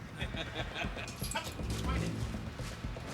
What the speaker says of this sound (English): He's a specialized narcotics dog.